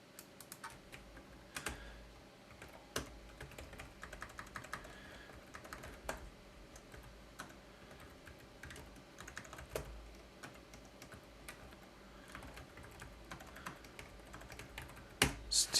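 Irregular clicking of keys on a computer keyboard, fairly quiet and close, with scattered louder taps and brief pauses.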